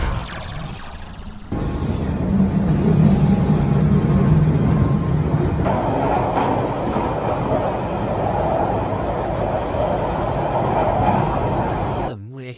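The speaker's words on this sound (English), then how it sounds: "Right then, we're on the train. We're going to London Victoria." Southern passenger train travelling to London Victoria, a steady low rumble and rolling hum of the carriage heard from inside, continuous throughout before cutting off abruptly at the end.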